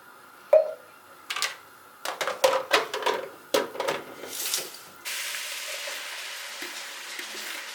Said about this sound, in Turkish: Sebzelerimi bu şekilde yağın içine attım. Çok çok az olacak şekilde kavuruyorum.